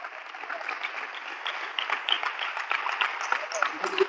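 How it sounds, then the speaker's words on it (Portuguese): A church congregation claps together in a steady, even round of applause after the sermon, somewhat distant and thin, with voices faintly underneath. "Vamos aplaudir o Senhor Jesus"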